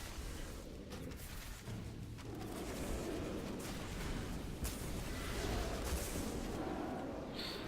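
Continuous dense booming and blasts from a World of Warcraft raid battle in Nighthold on Normal difficulty, with repeated explosions and gunfire layered into a loud, steady rumble.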